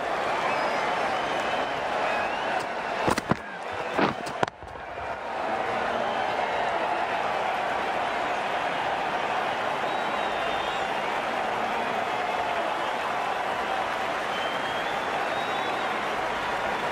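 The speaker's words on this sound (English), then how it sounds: "The crowd's on their feet, probably hoping they can catch a six." A stadium crowd in the Cricket 19 video game cheers and applauds after a boundary in a continuous roar of clapping and crowd noise, briefly broken by a few sharp clicks, while a commentator talks over it.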